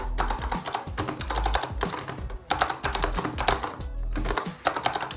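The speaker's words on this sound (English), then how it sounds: "here's a quick sound test of this keyboard." Rapid typing on an oversized computer keyboard, dense bursts of clacky keystrokes with a few short pauses, close and fairly quiet.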